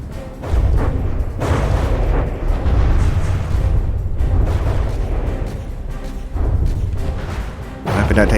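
Rumbling explosions and booming blasts from naval combat in the game From the Depths roll on almost continuously, loud and dense with overlapping bursts.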